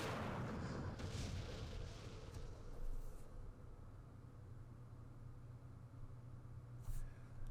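Recoilless rifle firing in the Vietnam War strategy game Campaign Series Vietnam, a single loud blast at the start that fades into a long rumbling decay, alone.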